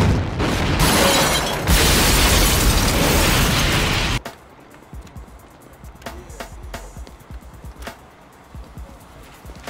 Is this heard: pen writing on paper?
no